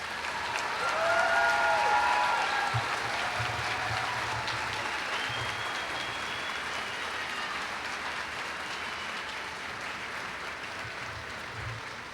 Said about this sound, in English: Let's give all these graduates another round of applause